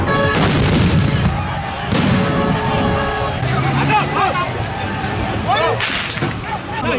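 Scuffle at a mosque with police firing tear gas: sharp whip-like cracks and dull booms burst over a loud, continuous crowd babble of shouting voices, with a few distinct cracks spread across the scene.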